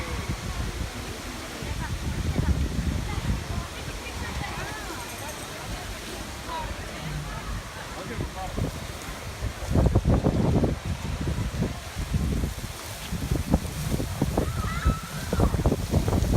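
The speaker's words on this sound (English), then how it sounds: "And here's one of the bigger waterfalls" Steady rushing water of a large waterfall at Animal Kingdom with broad noisy roar and wind buffeting the microphone, with splashy bursts toward the end; no clear speech.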